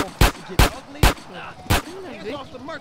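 Four sharp gunshots ring out at uneven intervals in a GTA San Andreas shootout, followed by quieter game sound effects and faint background chatter.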